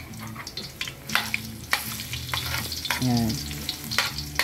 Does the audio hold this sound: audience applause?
no